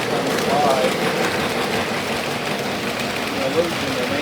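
A Lionel toy train runs past a switch tower on a model layout, giving a steady, continuous rumbling whir that holds at an even level for several seconds with no clear break.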